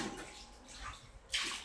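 Water splashes and pours as feet are washed, with soft sloshing and trickling that ends in a brighter, louder gush near the end of the brief burst.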